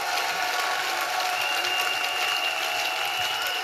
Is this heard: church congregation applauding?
yes